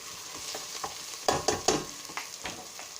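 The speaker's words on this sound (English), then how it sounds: "Don't let it stick on the pan, the onion." Chopped onion stirred in a pan for vegetable soup, a low frying hiss under a run of uneven scraping strokes, with a few sharper knocks of the utensil near the middle.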